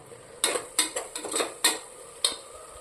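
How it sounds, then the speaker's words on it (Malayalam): Tomato rice masala being stirred in a pan, with a handful of distinct scraping strokes spaced irregularly over a soft background, close and moderately loud, with no voices. "അപ്പോൾ നമുക്ക് ഇളക്കി കൊടുക്കാം."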